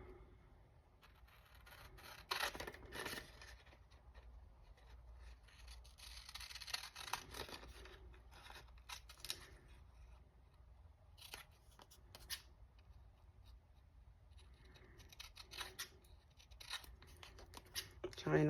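Scissors cut through paper and a tag on a craft table, with a few separate bursts of snipping and rasping, close and fairly quiet, and quiet stretches between them.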